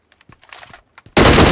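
In PUBG Mobile gameplay, a burst of rapid automatic gunfire erupts suddenly and loudly after a few soft clicks and faint taps.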